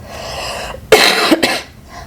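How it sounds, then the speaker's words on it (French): Two sharp, harsh coughs in quick succession, close and loud, following a brief breathy throat sound. "Donc ça va me faire tousser mes derniers microbes"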